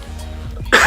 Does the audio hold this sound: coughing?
yes